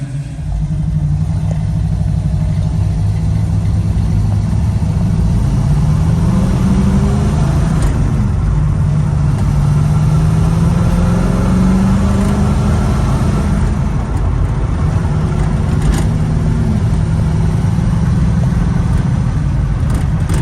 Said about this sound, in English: taking our 69 Camaro out here for a quick test drive